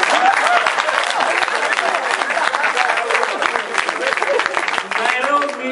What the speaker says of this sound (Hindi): ताली बजाते रहिएगा, मनोबल बढ़ता है।